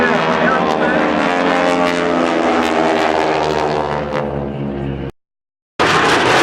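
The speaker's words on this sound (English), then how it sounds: "watch the downward bomb burst of the AirShow aerobatic" Propeller aerobatic aircraft performing a downward bomb burst at an air show, a loud steady droning engine roar with rich harmonics that cuts out abruptly near the end, then resumes.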